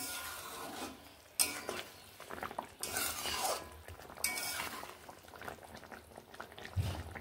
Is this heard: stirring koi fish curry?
yes